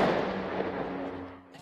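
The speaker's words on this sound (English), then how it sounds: "continuous gunfire and bomb explosion filled the air Friday morning" Battle gunfire and bomb blasts ring out as a dense, rumbling burst that gradually fades over a moment, with a news reporter's voice likely running faintly underneath.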